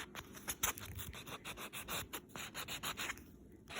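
A fingernail is buffed to strip its natural oil, giving soft, rapid rubbing strokes in a quick back-and-forth rhythm, close and faint.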